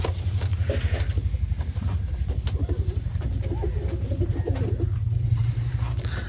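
Low, throaty cooing of many pigeons close by on a goat farm in a continuous pulsing rumble, with scattered fluttering and rustling over it.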